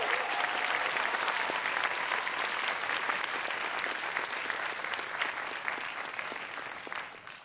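At a primary school sports awards ceremony in Bangkok, an audience claps steadily for the coaches, a full, continuous round of applause that fades away at the end.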